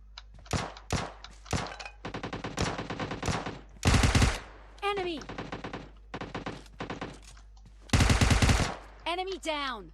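Rapid automatic gunfire in PUBG Mobile Lite rattles in repeated bursts, some distant and some close and loud, with short sharp single shots between volleys and no talk.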